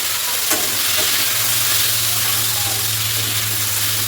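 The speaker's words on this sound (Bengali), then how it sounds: "এখানে ফুলকপি আলু মানে ঝোলটা বসিয়ে দিলাম ঝটপট করে" Cauliflower and potato curry cooks in a pan with a steady, close sizzle and hiss that runs throughout, plus a faint scrape of stirring near the start.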